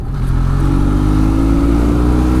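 A Benelli Leoncino motorcycle engine runs steadily while being ridden at a relaxed pace, giving a continuous, loud, close mid-pitched drone with a faint clattering edge and no voices.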